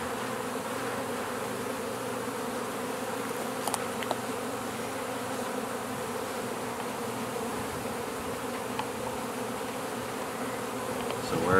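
Steady, close buzzing of many honey bees in a hive droning together without pause, a dense hum that holds level throughout.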